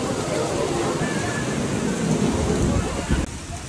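Heavy rain pours down in a dense, constant roar, with low rumbling underneath and faint voices mixed into the downpour.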